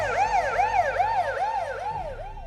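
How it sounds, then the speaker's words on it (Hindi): Police jeep siren wailing in a fast, regular up-and-down sweep, loud and close, repeating about five cycles. "पीछे से पुलिस की जीप का सायरन सुनाई देता है"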